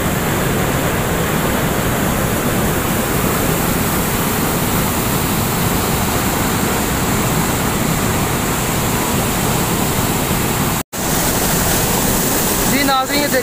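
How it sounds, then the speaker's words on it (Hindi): Water falls and rushes through a canal near Kasur in a loud, steady roar of broadband noise that continues with one brief dropout near the end. "जी नाजरीन ये देखें इधर से पानी गिर रहा है, तो पानी की स्पीड है वो देखो बहुत ज़्यादा।"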